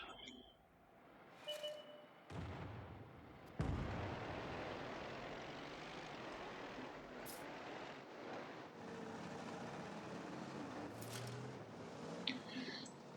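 A self-propelled artillery gun in a tank video game fires a blind shot: a sudden low boom followed by a long rumbling roar that slowly fades, with a few sharp game effects and a voice talking faintly.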